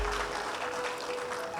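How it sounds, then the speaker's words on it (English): Audience applause at a debate championship awards ceremony, a steady dense wash of clapping filling the hall without pause. "Keep clapping"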